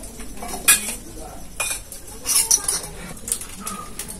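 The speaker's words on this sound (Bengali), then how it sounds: "এবার আমি এগুলো মাখিয়ে নেব।" Sliced onion, tomato and capsicum are tossed together in a bowl in a village kitchen, giving soft wet squelches with light clinks and scrapes against the dish, quiet and close, with no talking.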